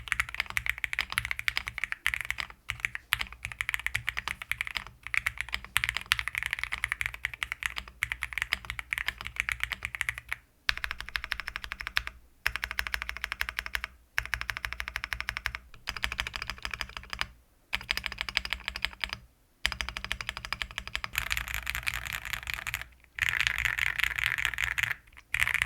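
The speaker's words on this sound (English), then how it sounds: "I'll just pop the keycaps on and do a stock out-of-the-box typing test" Continuous close-up typing on an IQUNIX keyboard fitted with stock pre-lubed linear switches, a dense run of keystrokes broken by a few short pauses, with no talking.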